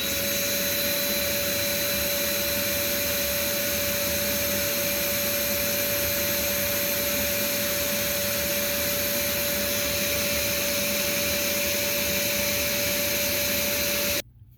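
A Simplicity Quicksilver vacuum cleaner runs on its high setting, giving a steady, loud whirring drone with a sharp constant whine, held unchanged until it cuts off abruptly at the end.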